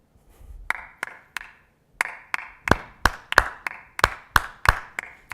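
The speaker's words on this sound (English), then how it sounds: "So if I did it again, I'll clap with them myself." Sharp hand claps ring out in an interlocking rhythm, sparse single claps at first building into a steady, denser pattern of two overlapping parts, close and crisp with a short room echo.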